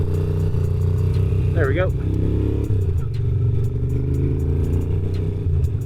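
A 1980 Moto Guzzi V50 II, recently recommissioned, idles steadily close by in a constant low throb, with someone talking briefly over the engine.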